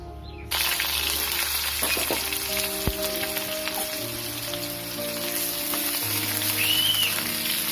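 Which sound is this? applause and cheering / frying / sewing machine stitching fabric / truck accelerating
frying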